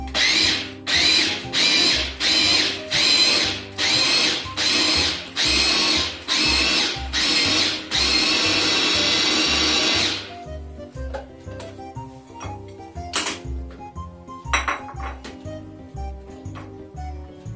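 Food processor chopping tomato, onion and three garlic cloves: a run of about eight sharp, evenly spaced motor pulses, then one longer steady whir before it stops, leaving light clattering.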